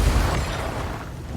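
Explosions from combat in Path of Exile 2 form a dense, continuous wash of booming bursts, loud and layered with a deep low rumble that eases slightly over time, with no voices.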